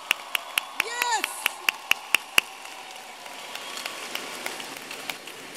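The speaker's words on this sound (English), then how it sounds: "Let's give them a round of applause." At a Chicago high school graduation, the crowd applauds the graduates' families: a run of sharp, evenly spaced claps rings out close by with a voice briefly over them, then gives way to softer, scattered clapping from the hall.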